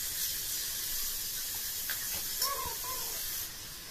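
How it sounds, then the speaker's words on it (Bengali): Paste of ginger, cumin and red chilli, ground together, hits hot oil for a fig curry, giving a steady, fairly loud hiss and sizzle throughout, with a brief brighter crackle near the middle before it eases slightly at the end. "আদা জিরে আর লাল লঙ্কা দিয়ে বেটে একটা মশলা তৈরি করা হয়েছে, যেটা তেলের মধ্যে দিয়ে দেওয়া হলো।"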